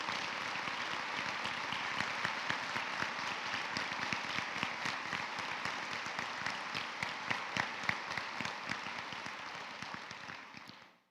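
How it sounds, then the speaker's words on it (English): A large audience at a nursing pinning ceremony gives sustained applause for standing nursing faculty, steady dense clapping at moderate distance that holds evenly for about ten seconds before cutting off. "Round of applause."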